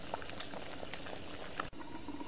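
A pot of salted mutton in water bubbles at a rolling boil over high flame, a quiet, continuous simmering churn with faint pops, heard alone without talk.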